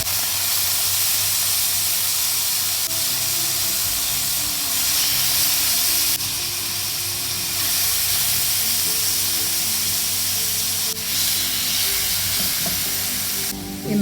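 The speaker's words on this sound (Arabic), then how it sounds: "وانتي بتنزلي بالكبدة لازم تسمعي الصوت ده، يعني لازم تكون الجريل سخنة جدا" Marinated beef liver dropped onto a very hot oiled grill, loud close sizzling and spitting hiss that holds steady, with brief surges as pieces are added or moved.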